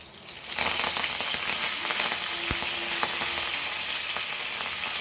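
Curry leaves hit hot oil for a traditional Goan dish and set off a sudden, steady loud sizzle that holds close and constant, with no talking.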